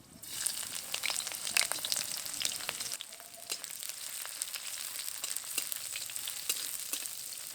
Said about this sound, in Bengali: ফোড়নটা ভাজা হয়ে এসেছে, এবার দিয়ে দেবো পেঁয়াজ কুচি।